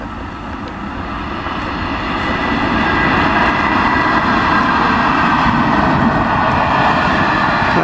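A light engine locomotive passes close by with a loud, steady heavy engine roar that swells over the first few seconds and then holds at full volume.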